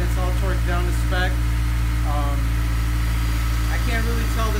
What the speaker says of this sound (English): And then I'll start up the car and see if there's a difference in the sound.